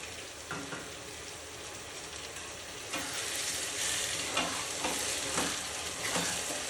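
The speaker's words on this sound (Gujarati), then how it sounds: "હવે લસણ અને ડુંગળી બંને સંતળાઈ ગયા છે તો આપણે તેમાં આ ઝીણા સમારેલા ટમેટા એડ કરી દઈશું" Chopped tomatoes go into garlic and onion already frying in a pan for a brinjal olo, giving a steady hiss of sizzling with scraping stirring strokes that grow louder partway through, alone and without talk.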